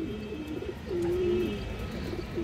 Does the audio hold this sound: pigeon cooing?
yes